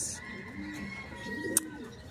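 Low, soft cooing of racing pigeons, a blue bar and a black check, at a loft after a training release from Catanauan, Quezon; faint and steady with a brief sharp click near the end.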